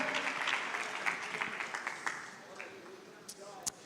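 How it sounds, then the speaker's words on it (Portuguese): Congregation at a Portuguese-language church service applauding, a dense wash of clapping that fades over a few seconds, with voices mixed in. "aplauda Jesus e coloque-se em pé, aplaudindo ao Senhor Jesus."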